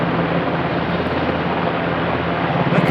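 Helicopter flying away after an airlifted rescue in Britain, a steady broadband rotor and engine roar that holds at an even level, continuous and moderately loud with no talk over it.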